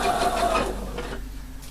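Sewing machine stitching a lining seam at 1 centimeter allowance, a close, steady mechanical whirr that runs for about a second and then fades to a lower hum.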